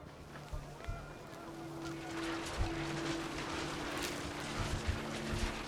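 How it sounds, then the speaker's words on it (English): Geese honk repeatedly in the video game What Remains of Edith Finch over a steady wash of wind and ambient noise, calls overlapping at a moderate distance. "The wind picked up and panicked geese appeared and quickly went."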